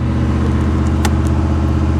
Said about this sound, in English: she's just wanting to rev high right now